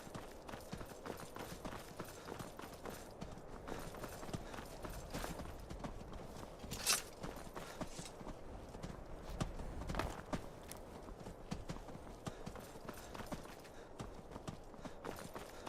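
Horse hooves in the video game Skyrim clip-clop in a steady walking rhythm throughout, fairly close, with a couple of brief louder knocks and no talking.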